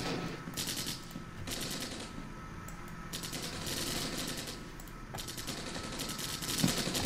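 Distant rapid gunfire rattles from the woods in the Armored Brigade war game, steady rolling volleys and machine-gun bursts mixed together under a constant battlefield rumble.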